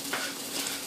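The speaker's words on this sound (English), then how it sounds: "Now, the pot is boiling." A pot boils on a kitchen stove, giving a brief, steady bubbling hiss with no talk over it.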